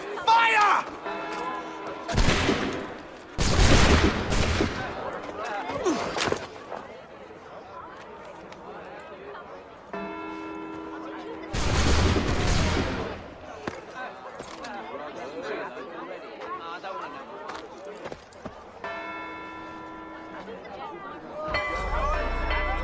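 Soldiers fire guns in an Assassin's Creed cutscene: several loud, sharp, broadband volleys burst out in separate clusters, with voices talking between them.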